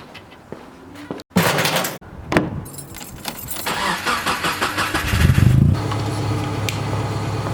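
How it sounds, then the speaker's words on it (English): Keys jangle and a door clunks, then a car engine cranks with rapid rhythmic turning before catching and settling into a steady idle close by. "So we're gonna have to start my car."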